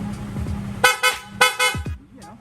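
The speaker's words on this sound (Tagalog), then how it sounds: "pa-activate naman ng loud horn" The aftermarket loud horn on a Yamaha Sniper 155 motorcycle blasts four times in quick short bursts, close and loud, over a low idling rumble.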